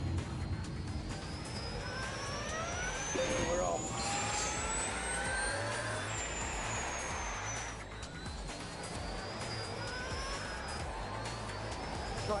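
A car's engine roars at full throttle during a launch from a standstill, a loud, steady drone with rising whine as the revs climb, close by and unbroken, with a voice faint in the background.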